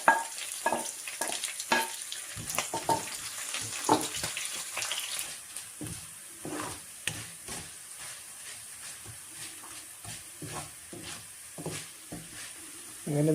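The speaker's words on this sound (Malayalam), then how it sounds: "അങ്ങനെ നമ്മുടെ ഇഞ്ചിയും വെളുത്തുള്ളിയും കറിവേപ്പിലയും മൂത്തിട്ടുണ്ട്." Curry leaves, ginger and garlic frying in hot oil for a Kerala green apple pickle, a steady close sizzle with scattered crackles and spoon stirring throughout, no talking.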